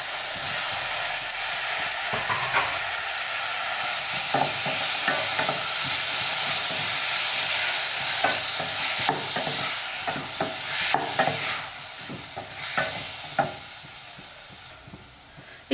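Chopped tomatoes fry for pepper rasam as they are stirred in a pan, giving a loud, constant sizzling hiss. Spoon scrapes and taps come and go near the microphone.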